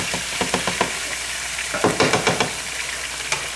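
Garlic fries in a hot pan with a steady, close sizzle, punctuated by repeated scraping stirs of a utensil against the pan.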